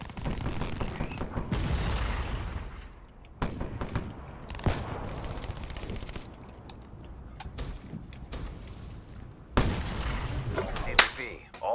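Gunfire in Call of Duty Black Ops 3 breaks out in repeated sharp bursts and single shots across a chaotic match, loud and close, mixed with game effects and players talking.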